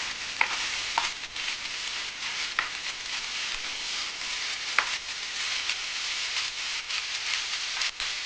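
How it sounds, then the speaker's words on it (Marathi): Shelled field beans (pavata) frying in oil make a steady, bright sizzle, with a few sharp clicks and scrapes of stirring scattered throughout. "याला छान तेलामध्ये फ्राय करून घ्यायचं आहे"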